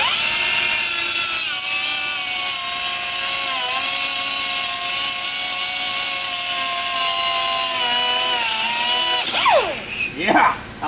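Grinder working on a part from a 6.7 Powerstroke diesel engine, a steady high whine with a held pitch for about nine seconds, then dropping and sweeping as it spins down; loud and close.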